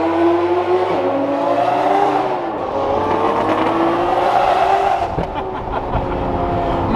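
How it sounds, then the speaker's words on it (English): Loud supercar exhaust roars continuously as cars drive and rev nearby, with rising and falling engine tones and a few sharp pops near the end, steady and close throughout. "Mikey's car is so loud"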